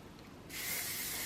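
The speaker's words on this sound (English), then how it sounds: "I'm gonna leave you there while I spray my hairspray." Hairspray hisses from an aerosol can in one sudden, loud, continuous burst after a brief quiet moment.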